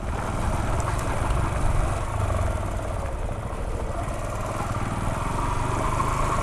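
A manual motorcycle engine runs steadily during gear shifts, a continuous close rumble that holds at a fairly even level throughout, with no clear rev peaks and no talking.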